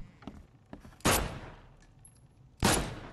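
Two loud, close gunshots in the video game The Sinking City, about a second and a half apart, each with a sharp crack and decaying tail, preceded by softer clicks and thumps.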